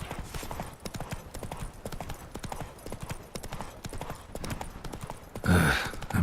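Roach, a horse in a video game, gallops along in quick, steady hoofbeats, close and clear, ending with a short loud burst of other noise.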